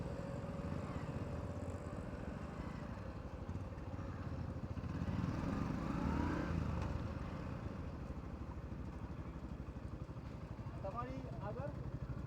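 Motorcycles idle together before a Sunday group ride from Ahmedabad to Anand, a steady low engine rumble running throughout with voices talking faintly underneath.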